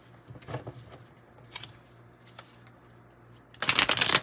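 A 108-card oracle deck is shuffled close by in soft, scattered riffles and slides, then ends with a louder burst of cards rushing together at the end.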